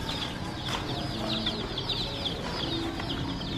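Chicks cheep continuously in a thrift store, a dense chorus of high, rapid peeps held at a steady level throughout, with no talking over it.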